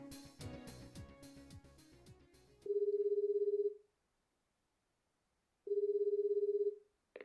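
A cell phone ringing in the video game Dies Irae: two long, steady electronic ring tones separated by silence, loud and clean, following a stretch of music.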